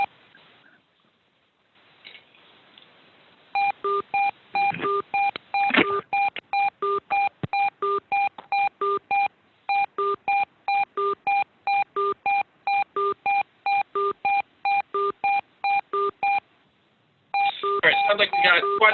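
Conference call system tones sound as participants leave a monthly carrier meeting, a long run of short electronic beeps repeating in quick regular pairs after a quiet opening, with brief pauses between bursts.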